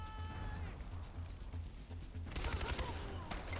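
Gunfire in the video game Far Cry 4 during a village battle, a muffled low rumble that breaks into a loud, rapid burst of shots in the second half.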